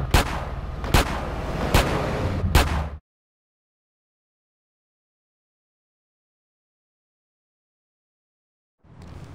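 Four evenly spaced, loud, booming gunshots ring out in Grand Theft Auto: San Andreas over a rumbling background. Silence follows for several seconds before faint sound resumes.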